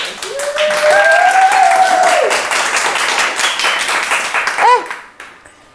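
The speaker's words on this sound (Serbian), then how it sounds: "Može aplauz." Audience clapping at a live monodrama performance, a dense burst of applause filling most of the stretch and then fading out, with a voice speaking faintly over it.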